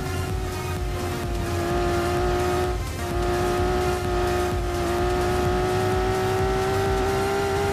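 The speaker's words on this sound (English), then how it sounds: "This car is extra loud," A loud, heavily modified car engine runs hard and steady with a thick droning roar and raw exhaust rasp, the pitch climbing slightly under sustained revving with no voices heard.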